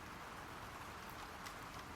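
Faint, steady rain falling on a courtyard, a soft even hiss of drops with no breaks, quiet and distant throughout.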